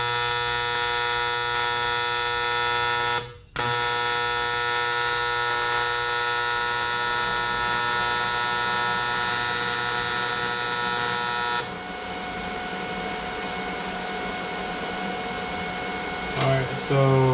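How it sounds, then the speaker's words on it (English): A TIG welding arc burns on an aluminum intercooler for an MKIV Supra with a loud, steady electric buzz, briefly cutting out once, then continuing in a rougher, quieter hiss before stopping near the end. "the torch was a little bit too far away and the arc is kind of going everywhere"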